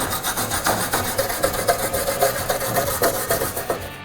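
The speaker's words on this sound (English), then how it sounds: "After I get done wire brushing my piece" Wire brushing an aluminum piece before welding, a steady scratchy rasp in quick back-and-forth strokes, close and loud with no talking.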